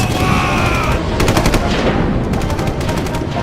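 Rapid machine-gun fire from a World War I animation rattles in repeated bursts, loud and close, filling the short stretch with clattering staccato shots.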